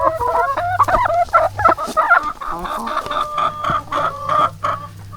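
Hens in a hen house cluck and cackle loudly and close by, several birds overlapping in irregular bursts with a low hum of airflow beneath.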